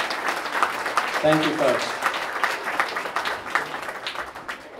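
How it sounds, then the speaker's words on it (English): Attendees at a chamber of commerce gathering applaud talented, hardworking members, a sustained patter of clapping from a crowd while someone briefly speaks over it. "Please give these folks that are incredibly talented and hardworking a round of applause."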